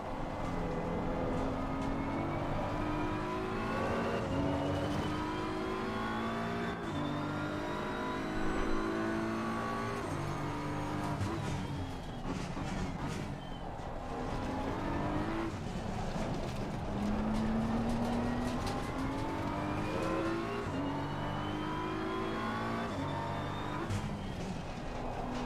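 A race car in Assetto Corsa Competizione on console, driven to warm its tyres, revs steadily throughout, its engine pitch climbing and falling in repeated sweeps with loud, continuous whine.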